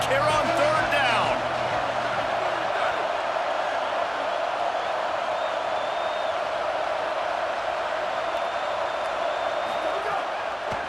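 Auburn stadium crowd in the NCAA 27 college football video game, a steady loud roar of massed fans holding through the whole stretch, with a brief burst of noise at the start and faint whistle-like tones drifting above.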